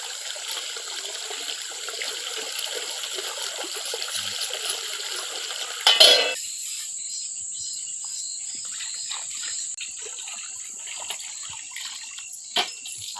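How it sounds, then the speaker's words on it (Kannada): Water runs from a household pipe after a pump motor starts, a faint, steady trickle under night insects or crickets, with a brief louder splash near the middle and occasional small clicks. "ಇವತ್ತು ಈಗ ನೀರು ಬಂದವ್ರಿ"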